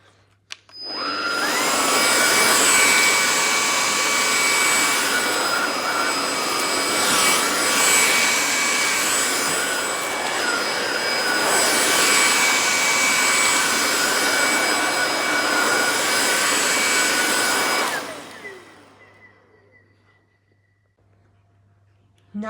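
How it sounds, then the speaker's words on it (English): Hoover ONEPWR Emerge cordless vacuum cleaner running on its highest mode, a loud, steady whine and rush of air that holds for about seventeen seconds, then winds down and stops. "Now we're going to do the highest mode."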